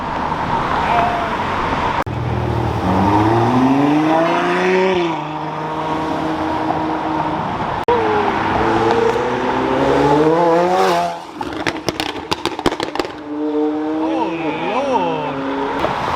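Powerful sports car engines rev up and roar leaving a Ferrari festival in Houston, pitch climbing and falling as they pull away, with sharp popping bursts from the exhaust partway through.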